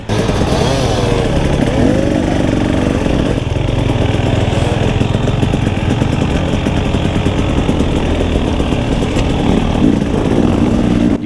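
A 2018 KTM 300 two-stroke dirt bike races in an enduro hare scramble, its engine loud, raspy and close throughout, revving steadily with small fluctuations in pitch and no pauses.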